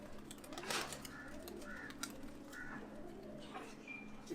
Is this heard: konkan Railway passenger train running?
no